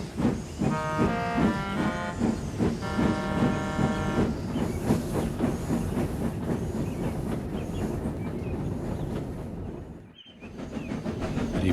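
Steam engine pulling a train: rhythmic chuffing and clattering wheels with hissing steam, loud and steady, with a whistle-like tonal passage early on and a brief drop near the end.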